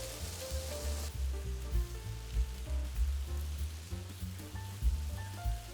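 Potatoes for corned beef hash browning in a pan, a soft, steady sizzle with a patter like light rain, fairly quiet and continuous, over a low musical background.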